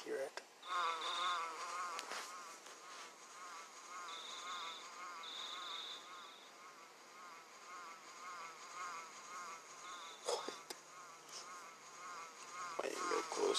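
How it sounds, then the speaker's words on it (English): An insect-like buzzing hums on and off through a scene in the video game Earthbound, a thin, wavering drone that sits in the background, with someone talking now and then. "Ness, do you hear a buzzing? It sounds like a bee flying around."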